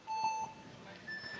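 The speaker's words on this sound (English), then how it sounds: "Hold your breath as we wait for the starting buzzers." Electronic starting buzzer at a speed climbing final in Chamonix, two short tones: a clear beep followed by a fainter, higher one, heard alone against quiet crowd ambience.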